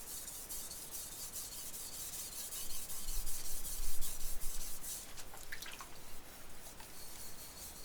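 Knife blade stroked across a sharpening stone, soft rhythmic scraping passes that swell midway then thin out, close and quiet with no talk.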